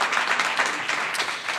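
An audience applauds in a short, dense wash of many hands clapping at once, steady and fairly even throughout, with faint crowd murmur underneath.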